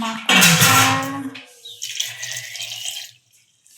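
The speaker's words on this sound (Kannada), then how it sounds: "ನೀರಿಗೆ ಹಾಕ್ಬಿಟ್ಟು ಕುಚ್ಚು ಅಂತ ತೊಳಿಬೇಕು ಗೈಸ್" Cut potato pieces being rinsed by hand in a bowl of water for a kebab dish, a burst of sloshing and splashing followed by lighter trickles and drips, close and fairly loud.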